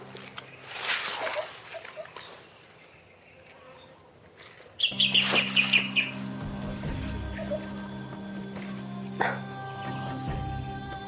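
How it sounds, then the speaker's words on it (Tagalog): A bird calls outdoors with a short series of high chirps, mid-level and fairly near, alongside dog barking, insect hum and a steady low drone. "Yan yung tinig ng ibon tol."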